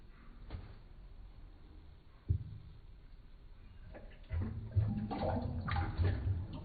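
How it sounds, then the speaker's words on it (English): Air bubbles out of a bottle lowered into blue-coloured water. Faint gurgles come first, then the bubbling swells into a steadier, louder burbling toward the end. "If I place the bottle in some water, which I've colored blue, you can clearly see the air emerge."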